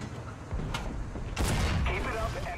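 A heavy tank cannon blast booms out in War Thunder from a T-34/85, followed moments later by a second shot, with muffled talk and engine rumble beneath.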